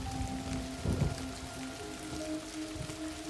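Steady rain pours down over a village, a dense, even hiss of drops with a faint low rumble and a steady tonal hum underneath.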